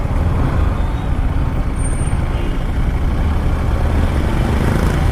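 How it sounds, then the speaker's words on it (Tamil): Heavy road traffic on a Coimbatore road on Mattu Pongal day rumbles in a continuous loud wash of truck and bus engines, with a brief air-brake hiss and no talking. "இன்றைக்கி மாட்டு பொங்கல்னால செம்ம டிராஃபிக்காக இருக்குது"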